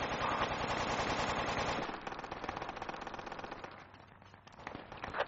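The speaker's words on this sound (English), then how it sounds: "Sounds like they have a sniper somewhere." Rapid, dense gunfire rattles in a tactical shooter video game, loud at first and then easing into scattered distant shots and crackles, with no talk.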